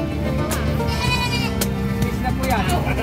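Goats bleating at the San Carlos City livestock market, several harmonic, wavering calls rising and falling over the three seconds, close and fairly loud beneath steady crowd chatter and people talking.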